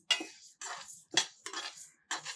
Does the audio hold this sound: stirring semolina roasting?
yes